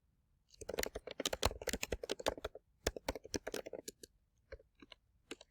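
Keys clacking in quick irregular bursts on a computer keyboard while typing a name into a Microsoft Word document, close and clear with short pauses between words, no talking.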